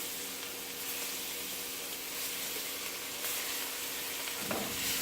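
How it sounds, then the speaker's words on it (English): Shrimp browning in oil and butter in a pan, a steady close sizzle and crackle that holds level throughout, with a faint clink near the end and no talking. "I'm going to brown each of these shrimp. Just to make the shrimp in this oil and butter I have over here."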